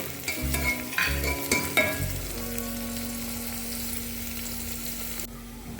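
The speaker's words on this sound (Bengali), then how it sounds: "প্রথমে সাদা তেল গরম করে এর মধ্যে পেঁয়াজের স্লাইসগুলো দিয়ে দিচ্ছি।" Onion slices dropped into hot white oil, a few close clunks and clatters of handling giving way to a steady, loud sizzle that carries on alone without talk.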